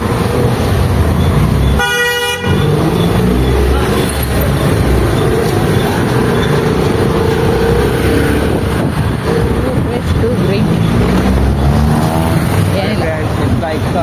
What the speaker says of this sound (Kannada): ಗಾಡಿ ಅದೇ ಕಾರು ಅಲ್ಲಿ ಹೋಯ್ತು ಅಲ್ಲಿ ಹೋಯ್ತಾ ಇದೆಯಲ್ಲ ಕಾರ್ ಅದೇ ಸೌಂಡ್ ಮಾಡ್ತಾ ಇರೋದು